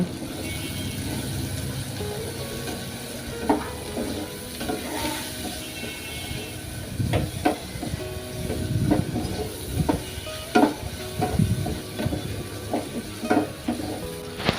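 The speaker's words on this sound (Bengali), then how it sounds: "এরপর সবগুলো আবার ভালোভাবে নেড়ে নিতে লাগবে" Food being stirred in a frying pan while cooking, with salt just added: a steady sizzle underneath and irregular scraping, clattering strokes that grow busier in the second half, close and fairly loud, with no talking.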